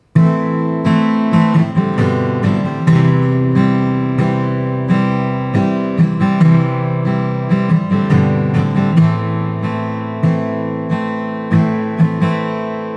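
Acoustic guitar strumming the chords of a song, a steady up-and-down pattern of full, ringing chords played close and loud with no voice over it.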